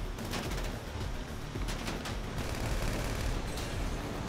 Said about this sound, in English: I was shooting at the trailer